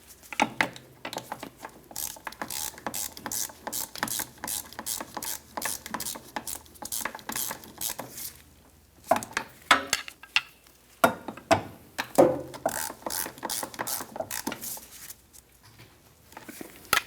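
A hand ratchet clicks in rapid bursts while control arm bolts are snugged on a 2008-2012 Jeep Liberty rear suspension, close and crisp, with short pauses between the runs of ratcheting.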